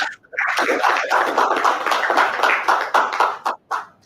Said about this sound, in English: We can give him another round of applause